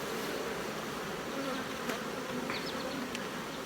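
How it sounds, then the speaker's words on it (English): Dense, steady buzzing of many honeybees fills the air close by around stacked hive boxes, a continuous drone with occasional individual bees zipping past. "all these boxes have bees actively"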